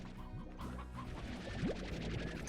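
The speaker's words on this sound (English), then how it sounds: "should I think about maybe picking up some of these chickens that are sitting around?" Chickens clucking in the video game Slime Rancher, a few soft short clucks and chirps over a muted game backdrop, fairly quiet.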